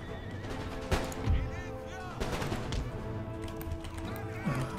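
Artillery and musket fire from the video game Empire: Total War sound as dense, continuous battle noise with scattered booms and cracks, horses whinnying, and someone talking over it.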